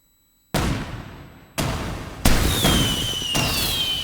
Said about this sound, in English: Here's some fireworks.